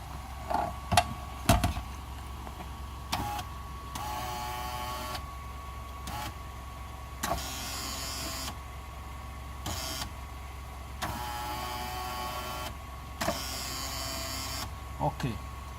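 Nissan Altima power window regulator motor being tested on the bench by remote, with several short whirring motor runs separated by pauses and a few clicks, close and fairly quiet.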